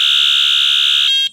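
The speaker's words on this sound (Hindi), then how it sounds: "हॉर्न बजा, हॉर्न बता। पहला हॉर्न" A vehicle horn on a street in Nagpur sounds one loud, close, sustained electronic-toned blast that lasts about a second before cutting off.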